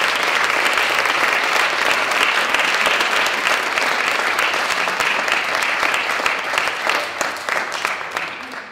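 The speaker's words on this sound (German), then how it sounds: "Also nochmal einen großen Applaus für alle." A large audience at the Poing cultural prize ceremony breaks into loud, dense applause that holds steady for several seconds before starting to fade.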